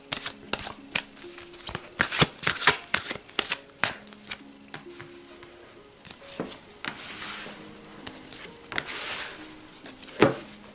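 Oracle cards are shuffled by hand in a steady run of crisp riffling and flicking sounds, close and fairly quiet, with no talking.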